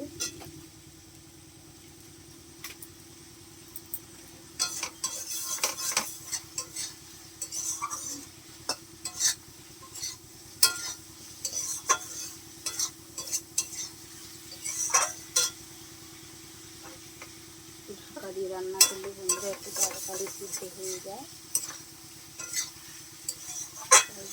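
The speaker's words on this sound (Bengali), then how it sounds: "মশলাগুলো বুঝ হয়ে যে ভালো করে সেই তো তেলটা দিয়ে কষে নিচ্ছে" Spices being fried and stirred in oil for a cauliflower, potato and rohu fish curry, with a soft steady sizzle under frequent clinks and scrapes of a metal spoon against the pan, with no talking.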